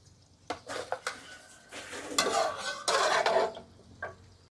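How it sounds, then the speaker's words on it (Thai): Stir-fried kale with crispy pork rind being scooped from a pan onto a plate: several close scraping and clattering spoon strokes against metal, louder in the middle, with a light sizzle underneath. "ตักใส่จานเลยค่ะ"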